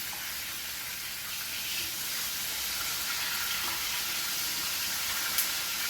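Chicken drumsticks and wings frying in a pan of oil, a steady soft sizzle and crackle with a brief sharper pop near the end, no talking.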